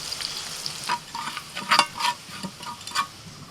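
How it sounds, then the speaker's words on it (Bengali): Sambar masala lightly frying in a pan, a close crackling sizzle with several quick scraping stirs and spatters rising over it in short bursts, no speech. "মশলাটা একটু হালকা করে ভেজে নিয়ে"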